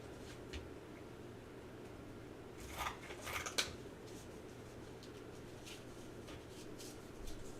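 Scissors cut a strip of craft material for a double homecoming mum in a few quick, faint snips over a quiet room hiss.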